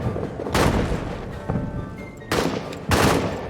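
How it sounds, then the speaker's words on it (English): Gunfire and grenade blasts in the WWI trench battle game All Quiet in the Trenches, with four heavy bursts and booms spaced irregularly over a rumbling battlefield background, loud and close. "I'm throwing a grenade at these guys, and I think I'm shooting these guys."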